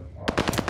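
Machine-gun fire in Call of Duty: Vanguard, a rapid burst of about six close, loud shots that starts abruptly after a brief quiet lead-in.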